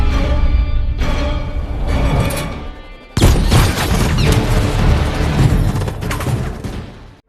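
Loud bursts of gunfire and booming impacts crash in rapid succession, with a sudden sharp blast midway, over a dense cinematic soundscape.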